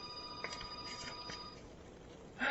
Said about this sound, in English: There goes my phone again.